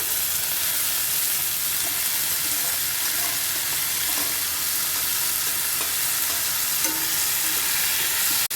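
Sprouted moong beans and potato sizzle steadily in a hot pan for a Gujarati sabji, a dense, continuous frying hiss with faint clatter, close and loud, with no talk.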